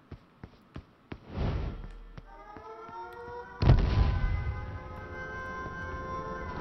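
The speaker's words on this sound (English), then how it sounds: "So I heard an explosion." An explosion in the online shooter H1Z1 hits as a sudden loud boom with a long rumbling decay, following a series of sharp taps and an earlier muffled thud, with no talk.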